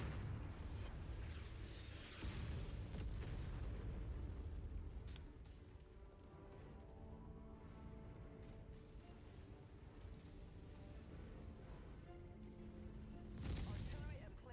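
Artillery barrages and explosions in a mech combat video game featuring big stomping robots, with loud, dense booms and bursts of fire throughout, a heavier blast near the start and another near the end, under and between intermittent voice lines.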